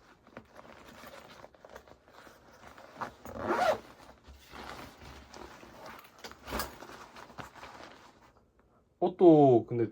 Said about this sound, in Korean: 가방 지퍼 잠그기.